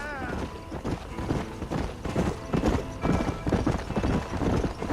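Horse hooves clip-clop at a fast gallop in the Red Dead Redemption video game, loud and close, with a whinny, creaking tack and other game sounds mixed in.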